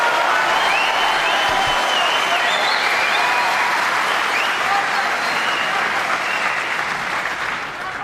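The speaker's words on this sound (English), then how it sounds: "Well, that was a fantastic response from this crowd" Sustained applause from a snooker crowd at a match between Ronnie O'Sullivan and Mark Selby fills the hall, loud and steady throughout before easing slightly at the end, with no talk over it.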